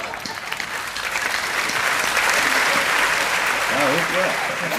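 Audience applause at a Hindi satirical comedy show, a dense, steady wash of clapping that swells after a quieter start, with a voice faintly breaking in near the end.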